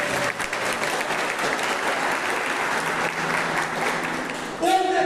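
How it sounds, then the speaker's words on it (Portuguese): A Catholic prayer group congregation applauding, a dense sustained clapping crowd filling most of the moment before it cuts off sharply. "Agora aplauda de novo."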